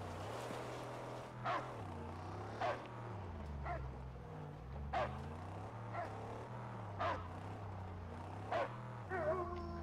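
Dog barking in the Mad Max video game, a series of short sharp barks spaced a second or two apart over a steady low engine-like drone, fairly close and clear.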